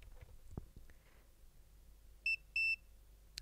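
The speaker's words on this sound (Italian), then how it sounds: "Ha fatto un beep" Two short electronic beeps from a multimeter, the second slightly longer, sound close up in a quiet room after a few faint clicks and handling noises, while testing a Philips HTS5110 home theater's components.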